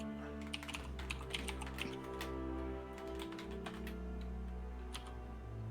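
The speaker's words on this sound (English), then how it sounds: "forgive me for those listening at home for the typing here." Rapid keyboard clicks patter along over a steady low hum, fairly close and unbroken by speech.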